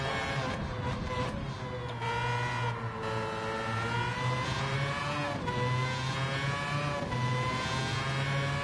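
Gran Turismo 7 LM55 VGT race car engine, a steady high-pitched whine that rises and drops with gear changes, playing continuously at moderate level.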